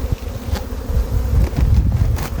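Honey bees buzzing loudly and close at an open hive during an April inspection near Ankara, a dense continuous hum with occasional louder passes near the microphone.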